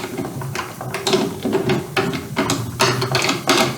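Hopper being screwed onto the threads of a Graco Sanisprayer, close plastic scraping, clicking and rattling in irregular bursts as the parts are turned and seated.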